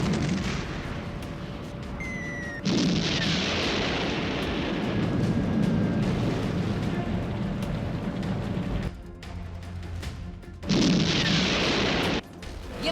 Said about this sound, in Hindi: धमाके, शोले और आसमान में उठता धुएं का गुबार।